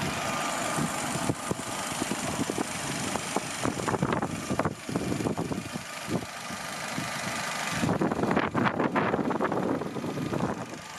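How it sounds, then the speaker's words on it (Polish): A 2010 Citroen C4 1.6i 16V 109 hp petrol engine with an LPG conversion idles on petrol, a steady low hum with wind buffeting the microphone and no talking. "Najpierw posłuchamy silnika na benzynie,"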